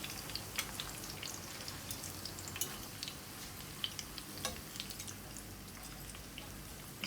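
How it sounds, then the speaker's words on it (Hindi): Stuffed karela (bitter gourd) frying slowly in oil, a faint, steady crackling sizzle with scattered small pops throughout, close by and without talk. "अच्छा सा ब्राउन कलर में इन्हें फ्राई करना है।"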